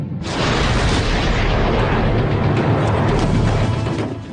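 Shells exploding in mountain warfare on Himalayan peaks around 16,000 feet during the Kargil conflict: a sustained, loud, dense rumble of booms and crashes filling the whole stretch with no gaps, no speech over it.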